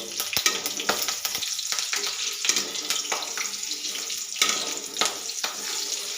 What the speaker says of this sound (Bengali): দিয়ে 25-30 সেকেন্ড নাড়িয়ে হালকা ভেজে নেব।